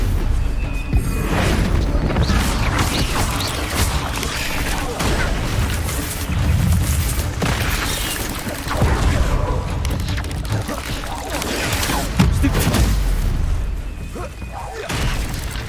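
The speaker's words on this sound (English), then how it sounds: "Bombarda!" Bombarda spell blasts in Hogwarts Legacy, with several heavy booming explosions and crashing impacts in a loud stretch of combat, broken up by a voice talking over the action.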